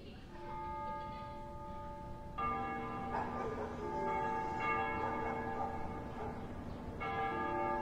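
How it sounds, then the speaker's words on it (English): Church bells ring at dusk in the Ace Combat Zero video game, sustained tolling with layered ringing tones that swell midway, steady and fairly close with no talking. "They ring the bells here at dusk to honor the liberation of the capital."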